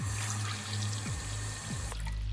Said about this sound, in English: I'm going to put some water in this bowl